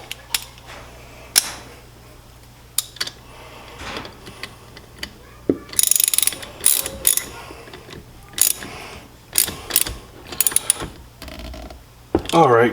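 Bolts on a 13,000 lb 12V electric synthetic-rope winch are tightened with a hand ratchet, giving scattered close clicking bursts and sharp mechanical clacks with pauses between them.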